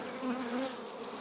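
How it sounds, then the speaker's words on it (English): Honey bees buzzing close by, a continuous droning hum that swells slightly and stays steady throughout. "box up some of these bees and bring them over to me"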